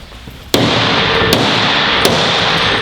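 A firefighter sounds a closed door during a two-person forced-entry drill, striking it with a tool. Three loud, sharp impacts land at even intervals, each followed by a sustained ringing rattle.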